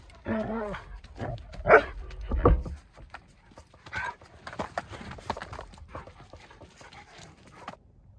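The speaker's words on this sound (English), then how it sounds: "It's becoming more and more difficult to record things outside with dogs and a neighbor dog." Dogs bark outdoors near a rural homestead garden, a few loud, sharp barks early on, followed by fainter scattered yips and rustling noise in the background.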